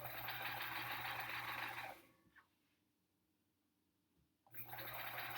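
A sewing machine stitches quilt fabric while chain piecing for a sampler quilt, giving a steady close whirring run, then a quiet pause of about two seconds, then a second burst of stitching.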